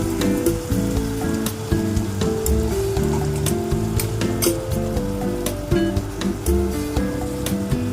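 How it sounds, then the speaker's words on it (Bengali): Hot water poured into a jackfruit and prawn curry cooking in a pan, giving a steady loud sizzle and bubbling with scattered crackles. "এবার আমি দিয়ে দেবো গরম জল।"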